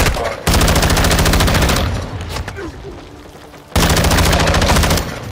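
Rapid automatic gunfire from Call of Duty: Modern Warfare II multiplayer, loud and close, in two sustained bursts separated by a quieter stretch with scattered game noise.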